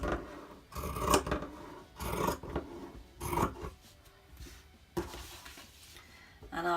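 Scissors snipping through fabric pattern pieces for homemade wheat-pack hand warmers, a series of close, crisp cutting bursts with short pauses between, fairly quiet with no talking.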